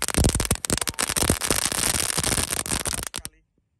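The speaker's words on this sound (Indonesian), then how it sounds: "kita nyalakan dulu ini mercon pretek telur dino ukuran mini guys" A whole pack of mini dino egg firecrackers goes off in a dense, loud run of crackling pops and bangs for about three seconds, then stops abruptly into near silence.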